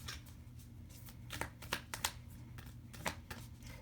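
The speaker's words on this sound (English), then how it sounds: "I'm going to pull some cards from the Moonology deck and see what we got here." A Moonology oracle card deck being shuffled close up, a quiet run of soft riffling flutters and light slaps with no talking.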